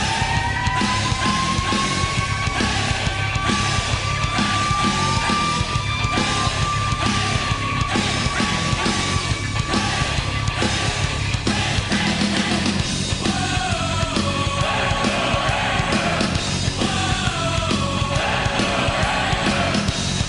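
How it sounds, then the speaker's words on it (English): Goal celebration at a Kitchener Rangers home hockey game: a loud, sustained arena din of crowd yelling and cheering with a long horn-like tone, continuing unbroken for about twenty seconds. "the sound you hear every time the Kitchener Rangers score a goal"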